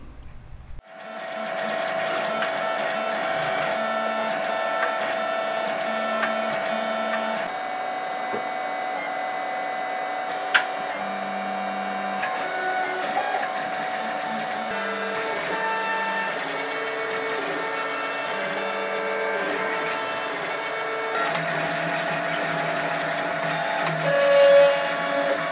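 A 3D printer prints parts for an R2-D2 build, its stepper motors whining in steady tones that shift pitch as the head changes moves, continuous and close, with no talking.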